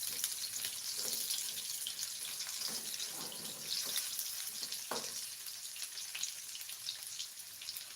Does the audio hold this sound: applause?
no